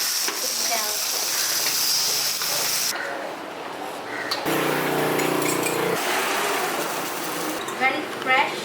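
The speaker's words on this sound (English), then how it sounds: "put 3 prawns, don't stir, let it char on the side" Prawns and egg frying in a pan at a Penang street-food stall in Malaysia, a steady close sizzle with occasional clinks of utensils and background voices.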